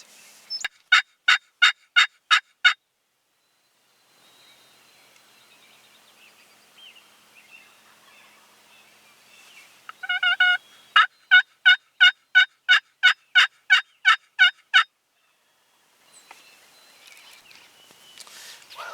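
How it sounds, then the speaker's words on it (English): Wild turkeys gobble in two rapid bursts of repeated loud calls, separated by quieter stretches of faint outdoor ambience. "They're gobbling, but they're back behind where we expected them to be"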